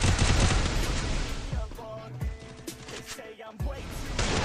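Bursts of rapid video-game gunfire in Free Fire, loud and dense at the start, thinning into scattered shots mid-way before heavy firing resumes.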